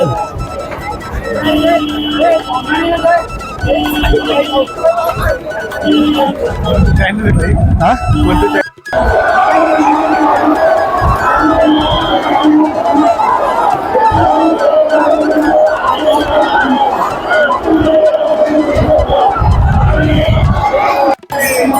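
A large crowd of pilgrims and villagers gathered at Jejuri for the Sant Dnyaneshwar Maharaj palkhi darshan, a loud continuous outdoor hubbub of chatter and calls, with a voice talking over it.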